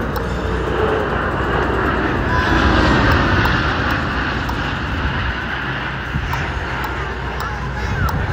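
Pratt & Whitney F117 jet engines on a large military transport aircraft at an air show give off a steady, loud, broadband roar throughout, with voices faintly audible over it.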